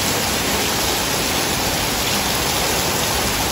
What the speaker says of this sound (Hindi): और बारिश कंटिन्यू, इससे भी ज़्यादा स्पीड हो रहा है